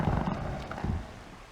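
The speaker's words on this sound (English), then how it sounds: "That was the sound of the creaking wood, right? Not a monster or a bear or something." Creaking wood in the video game Alan Wake: a low, rough groaning creak that rumbles continuously, loud and close, for about a second and a half.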